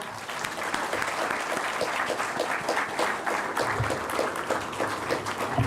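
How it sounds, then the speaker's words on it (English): Students and parents applaud the teachers and professors at a university campus orientation session, a full, steady round of clapping from a large audience, continuous throughout. "So to give a big round of applause to all the teachers, professors, everyone here"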